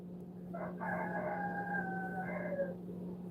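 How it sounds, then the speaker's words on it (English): A rooster crows once outdoors, a fairly distant, drawn-out cock-a-doodle-doo standing clearly over a low steady hum, with no one speaking. "Oh, I hear the rooster crowing."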